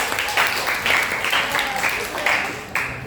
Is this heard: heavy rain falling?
no